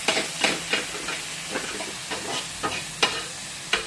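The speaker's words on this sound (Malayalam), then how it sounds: "വെന്ത കൊഞ്ചും പയറും കൂടെ നമ്മൾ തട്ടയാണ്." Cooked prawns and beans hit a hot pan and sizzle, with a steady frying hiss broken by repeated stirring scrapes in an irregular rhythm, close and fairly loud, with no one speaking.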